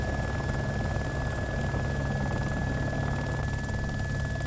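A helicopter in the DayZ video game drones close by, a steady rotor hum with a constant whine running evenly throughout.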